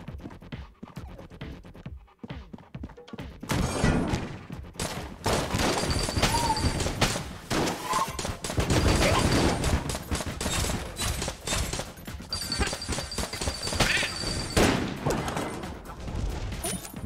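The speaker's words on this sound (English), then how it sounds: "Most damaging nail gun ever." Rapid bursts of nail gun fire in the video game Enter the Gungeon, dense crackling volleys and crashing impacts that run loud and nearly continuous after a quieter start.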